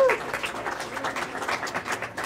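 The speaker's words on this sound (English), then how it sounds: "A big round of applause for yourselves." Brief, moderately quiet applause rises from an audience at a talk during a tech event, a loose patter of claps with a few stronger bursts and no speech over it.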